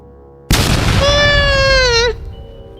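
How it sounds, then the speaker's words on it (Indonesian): A dark energy explosion sound effect bursts in abruptly with a loud, dense roar that holds steady for about a second and a half, a high tonal whine rising over it before the blast cuts off and fades out. "Sebuah ledakan energi gelap menghantam dekat tempat Lira berdiri"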